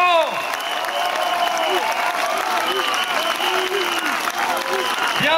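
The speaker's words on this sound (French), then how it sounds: "applaudissons-les !" A crowd claps loudly and steadily at a political speech, with sustained applause filling the whole stretch and a few scattered shouts rising from the audience.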